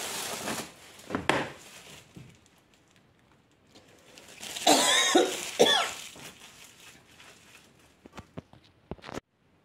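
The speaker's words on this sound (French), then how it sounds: "À chaque fois que je fais une vidéo, je tousse" A woman coughs in a quiet room near a newly lit scented candle, with a run of close, harsh coughs and throat clearing, a louder fit midway, then a few short sharp knocks and taps toward the end.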